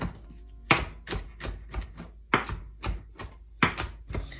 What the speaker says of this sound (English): These loose leaves we'll just give a chop.